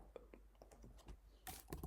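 Computer keys tapped on a keyboard while typing domain name servers, a quick run of light, irregular clicks, near and fairly quiet, ending in a denser flurry of keystrokes.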